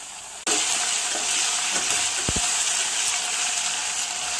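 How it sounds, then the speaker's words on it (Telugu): Onion, green chilli, curry leaves and ginger-garlic paste fry in hot oil, a loud bright sizzle jumping up suddenly and holding steady, with a few dull knocks of a spoon against the pan. "దాంట్లో కొంచెం అల్లం వెల్లుల్లి పేస్ట్ వేసుకుని వేయించుకోవాలి"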